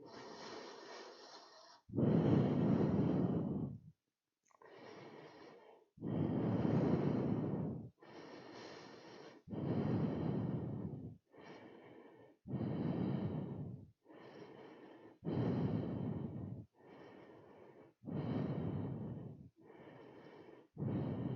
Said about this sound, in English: Ujjayi pranayama, breathing.